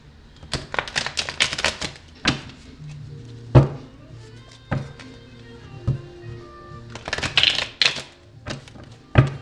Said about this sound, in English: but I'm going to shuffle them again for some advice and some confirmation here.